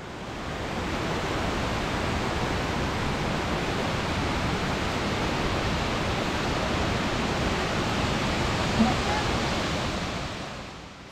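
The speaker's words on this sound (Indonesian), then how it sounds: "Akhirnya sampai juga pas di bawah air terjun Tumpak Sewu." A constant roaring rush of falling water, loud and unbroken throughout, heard from beneath Tumpak Sewu waterfall in Lumajang, East Java.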